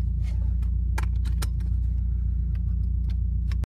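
A Nissan 240SX idles and pulls away, its steady low engine hum running continuously at close range for several seconds with a few light clicks and rattles on top, then cutting off abruptly.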